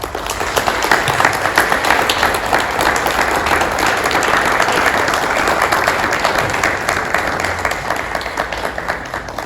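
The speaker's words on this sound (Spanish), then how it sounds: "a brindarles a todos ellos un muy fuerte aplauso" An audience applauds loudly and steadily at a commemorative anniversary ceremony, a dense, sustained wash of clapping that holds its level throughout.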